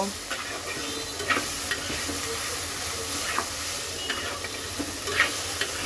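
Onion pieces and green chillies sizzle steadily in a pan of oil, a close, continuous hiss broken by occasional soft scrapes and taps as they are stirred.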